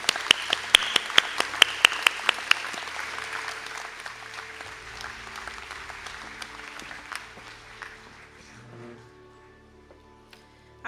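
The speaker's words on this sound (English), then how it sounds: "a round of applause." An audience applauds at a college conferring ceremony: sharp individual claps at first, then a steady wash of clapping from many hands that gradually fades out.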